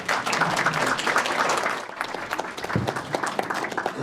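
An audience at a public policy forum applauds to welcome a speaker, steady dense clapping filling the room for the full stretch, loud and sustained with a slight dip midway.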